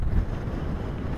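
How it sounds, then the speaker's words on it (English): Strong wind roars steadily across the microphone on the summit of Mam Tor in the Peak District, a dense low rumble with constant buffeting and no voices. "Very windy."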